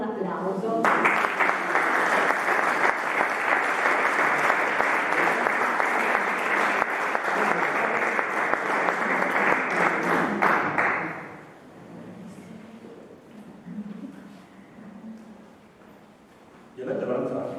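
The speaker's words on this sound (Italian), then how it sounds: "vi accogliamo con un applauso" An audience applauds for two costumed performers, one dressed as Virgil and one as Dante, at a dialect reading of Dante's Inferno in Bellinzago. The clapping is loud, dense and sustained for about ten seconds, then fades into murmuring and a brief final burst.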